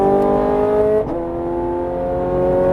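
Ferrari 430 Scuderia engine on a race track, a loud close-up harmonic drone that dips at a gear change then climbs again as the throttle opens.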